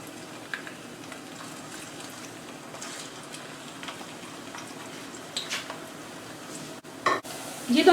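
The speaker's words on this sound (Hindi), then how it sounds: "ये प्याज को मैं फ्राई कर रही हूँ" Onions fry in oil for haleem korma with a soft, steady sizzle, broken by occasional stirring and clatter near the end, while a voice speaks quietly over it.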